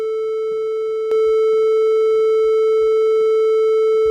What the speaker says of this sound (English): Here's a 440 Hertz triangle wave.